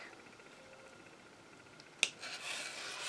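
A single sharp snip of scissors cutting through fabric for a handmade boho necklace pouch, preceded by quiet room hiss and followed by faint rustling.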